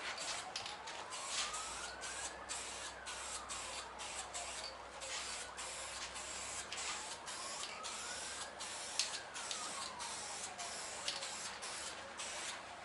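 A light coat of spray paint goes onto a Toyota Coaster bus outdoors: quiet, steady aerosol hissing with rhythmic short bursts and a faint rising and falling tone behind it, no speech.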